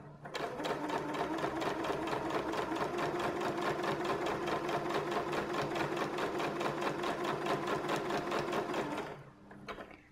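Sewing machine stitching through quilted fabric, running at a fast even rhythm for about nine seconds before stopping, close and loud with no talking over it.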